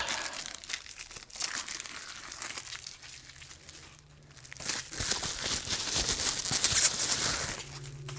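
Strips of packing tape being peeled and torn off a cardboard shipping box, with loud close crinkling and ripping that comes in bursts, pauses briefly, then builds into a longer, denser stretch of crackly tearing.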